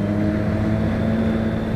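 A motorcycle is ridden along a city street, its engine a steady, close drone with a low hum, mixed with heavy rushing wind noise over the microphone.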